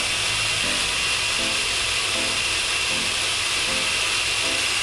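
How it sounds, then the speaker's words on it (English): An electric blender runs on washed, peeled turmeric root, giving off a steady, loud whirring hiss that holds constant from start to finish with no talking. "add the turmeric to the blender"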